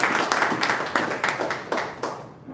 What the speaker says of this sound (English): Another set of round of applause for the speech evaluators.